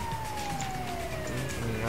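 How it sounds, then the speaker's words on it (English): An ambulance siren in a video game sounds as a continuous, slowly falling wail, loud and close over low engine rumble and road noise. "If you see an, ambulance driving by, that's probably me."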